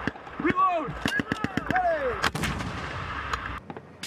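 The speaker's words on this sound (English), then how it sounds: "when the enemy fires back, they face machine gun fire and anti-tank weapons." Military exercise gunfire from machine guns and anti-tank weapons, sharp loud reports and rapid cracks with rising whistling tones, punctuated by distant bursts, with shouting voices amid the firing.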